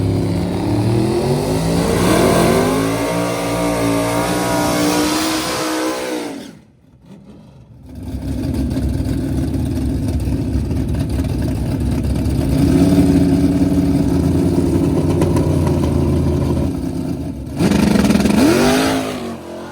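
A race car at a racing event accelerates hard with a loud, close, sustained engine roar and rising revs, briefly dropping off mid-run before surging again.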